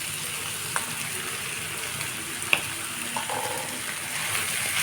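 Chopped cabbage frying in a pan for chow mein, a steady sizzle with a few sharp clicks of a utensil stirring against the pan.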